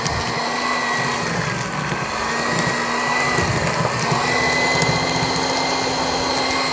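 Electric hand mixer beating cookie dough, a loud steady motor whine with a gritty churning texture running unbroken, close up.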